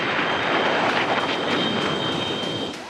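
A MiG-21 fighter jet roars past in flight, a loud, continuous broadband engine rush with a steady high whine that holds throughout before easing slightly at the end.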